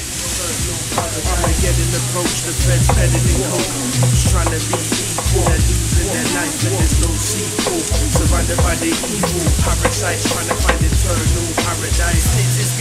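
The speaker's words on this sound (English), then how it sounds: "Heating up the pan, so I'm going to put some butter in there, with some rosemary and some smoked garlic for the flavour." Butter with rosemary and smoked garlic sizzles and spits steadily in a hot pan, loud and close, with occasional stirring scrapes and clinks.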